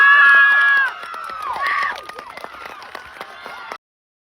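Crowd cheering and clapping, opening with loud shouts and whoops that drop off into a scattered patter of applause before cutting out abruptly.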